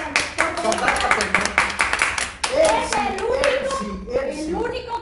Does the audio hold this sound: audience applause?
yes